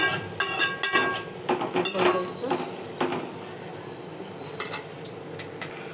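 Ginger paste and turmeric stirred into a broad bean curry in a pan, with a run of close scraping and clattering strokes in the first half that thin out into a soft, steady simmering hiss.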